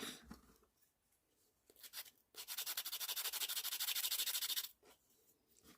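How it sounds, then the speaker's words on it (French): A file rasps against the plastic casing of a battery-powered toy ride, a steady run of quick strokes lasting about two seconds, close and fairly loud, with faint scraping before it. "Après, je viens, je lime un peu le bazar."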